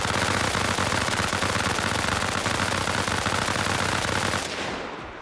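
Sustained, dense minigun fire from Nasty's Minigun mod in the video game Arma Reforger, a loud continuous stream of rapid shots that runs for several seconds and then cuts off sharply, leaving a brief fading tail.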